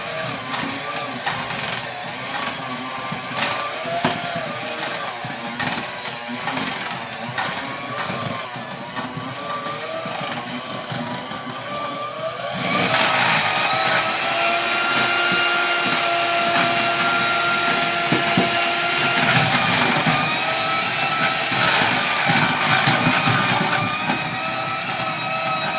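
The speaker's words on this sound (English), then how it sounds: "And then take my mixer and mix that up." An electric mixer whips cooked potatoes with butter, a loud, close, continuous motor whine that steps up to a higher, harsher pitch about halfway through and then holds steady until the end.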